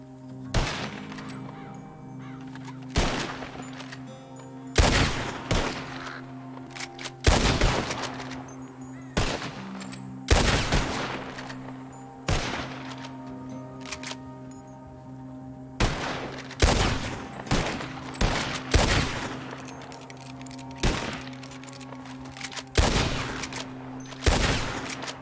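Repeated gunshots ring out in Red Dead Redemption 2 as a hunter fires at flying birds, sharp separate blasts coming every second or so across the scene over a low steady background hum, with no talk.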